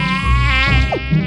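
A mosquito buzzing close by in a house, a loud, continuous, high whining drone that wavers slightly in pitch for about a second, with no voices.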